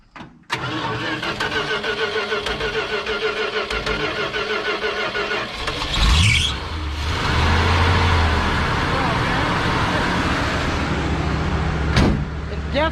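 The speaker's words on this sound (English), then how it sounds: "You got to hold your foot to the floor to get it to fire. But once it fires, we're all right." A 1970 Dodge D-100 truck engine, pulled from a barn and in need of a carburetor, cranks over and catches, then settles into a loud, steady idle close by, with a brief rev and voices in the background.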